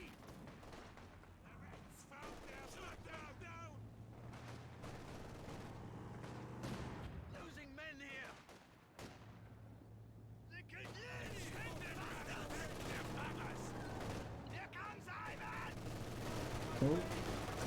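An artillery barrage in a competitive online video game match with mortars in play produces continuous rumbling booms and scattered gunfire at moderate distance, running under steady excited commentary.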